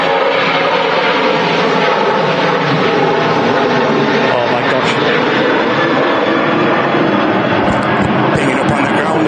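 A Ryanair Boeing 737 jet climbs out of Manchester Airport, its loud, continuous engine roar filling the whole stretch at close range with little change in level.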